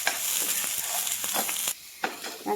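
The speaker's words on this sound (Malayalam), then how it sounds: "വെളിച്ചെണ്ണ ചൂടായിട്ടുണ്ട് നമുക്ക് ഇതിലേക്ക് ഇഞ്ചി അതേപോലെ തന്നെ വെളുത്തുള്ളി പച്ചമുളകും കൂടി അരിഞ്ഞത് നോക്കിയിട്ട് വഴറ്റി കൊടുക്കാം" Chopped ginger, garlic and green chilli sautéing in hot coconut oil: a bright, close crackling sizzle with quick scraping stirs, briefly dropping quieter before picking up again.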